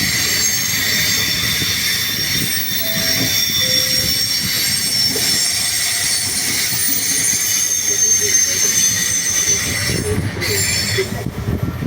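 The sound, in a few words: regional train arriving at Padova station platform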